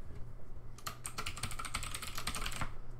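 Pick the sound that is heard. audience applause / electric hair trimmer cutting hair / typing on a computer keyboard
typing on a computer keyboard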